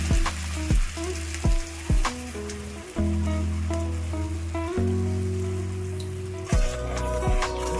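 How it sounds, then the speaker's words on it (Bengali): Paste of ground ridge gourd, garlic, nigella seeds and dried red chili hitting hot mustard oil, sizzling loudly and steadily with a few sharp pan knocks and stirring scrapes, close up and without talk. "এবার বেটে রাখা ঝিঙে, রসুন, কালো জিরে আর শুকনো লঙ্কার পেস্টটাকে আমি দিয়ে দিচ্ছি।"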